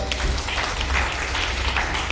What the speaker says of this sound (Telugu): అందరూ క్లాప్స్ కొడతాం ఒకసారి